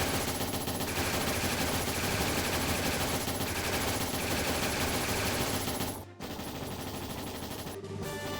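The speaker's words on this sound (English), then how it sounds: "Powder guns? The hell'd they get that junk from? They'll bury us in bullets at this rate." Powder guns fire in the video game Trails in the Sky SC, a dense continuous rattle of rapid automatic gunfire, loud and steady, with two brief gaps near the end.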